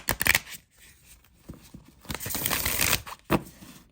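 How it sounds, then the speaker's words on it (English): A satin-finish oracle card deck is shuffled by hand, giving quick papery riffles and soft slaps in short bursts, close and fairly quiet, with brief pauses between. "Let's see how it shuffles."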